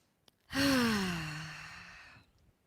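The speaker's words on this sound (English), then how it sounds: "why don't we just take a deep breath in together right now?" A group breathing together during a guided embodiment session, heard as one long, loud breath that swells quickly and slowly fades over about two seconds, with no talking.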